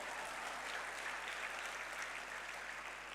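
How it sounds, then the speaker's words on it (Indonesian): An audience at a political address claps together in a steady, faint wash of applause that stays even and distant throughout. "Bapak Ibu semua, tepuk tangan dulu"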